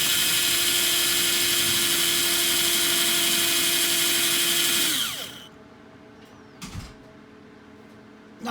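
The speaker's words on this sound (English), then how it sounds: "drill some holes in that" A power drill whirs steadily at high speed, then winds down and stops, leaving quiet with a brief knock afterward.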